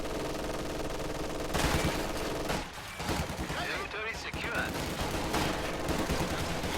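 Dense video game gunfire crackles from inside a house as troops unleash volley fire on a squad of pioneers, rapid overlapping shots and bursts continuing loudly with a brief lull midway.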